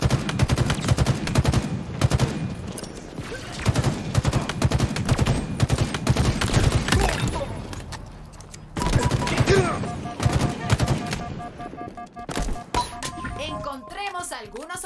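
Rapid gunfire from Halo Infinite in a Fiesta Slayer match on the Bazaar map: dense bursts of automatic shots and single cracks come in quick succession, then thin out near the end, with other game sounds between them.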